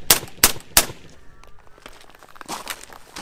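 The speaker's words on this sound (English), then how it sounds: "To fire the XCR, aim, flip the safety off, and squeeze the trigger." Robinson Arms XCR rifle firing: three sharp, loud single shots in quick succession at the start, followed by fainter metallic clatter and a couple of softer bangs.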